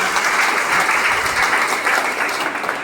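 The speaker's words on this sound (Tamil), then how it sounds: "ஒரு அரங்கம் நிறைந்த கைதட்டுவதா" A full hall audience claps for a speaker at a Tamil talk on women's challenges, dense steady applause throughout, loud and close, with no voices over it.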